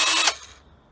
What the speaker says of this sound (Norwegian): når jeg starter drillen og holder den inntil point one